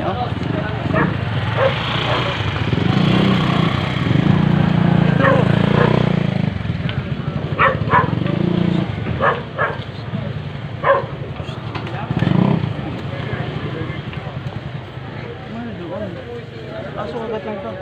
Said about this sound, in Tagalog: Aso kagat lang to.